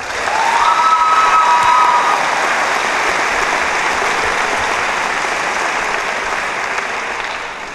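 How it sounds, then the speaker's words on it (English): A graduation audience at Dunkirk High School in Dunkirk, New York, breaks into loud, sustained applause that swells and then slowly thins, with a few faint whistles early on. "I believe that all these people deserve a round of applause."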